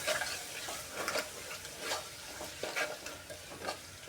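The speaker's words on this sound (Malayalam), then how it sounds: "ഇതിനി നല്ലവണ്ണം ഇളക്കി യോജിപ്പിച്ച് നല്ല മൂപ്പിച്ചെടുക്കണം." Onions sautéing in a pan for Kerala-style mutton curry, a soft, fairly quiet sizzle with regular scraping strokes as a spoon stirs them around, no voices.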